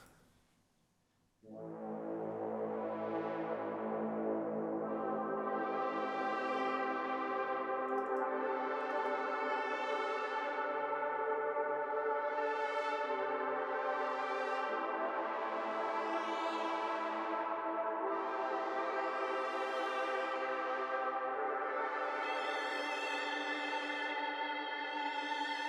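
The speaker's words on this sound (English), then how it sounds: "So our last melodic element is this pad" Sustained dub techno synth pad with room reverb: rich harmonic chord swells entering after a brief quiet start, then slowly filtered sweeps rising and falling in repeated waves, loud and continuous with no talk.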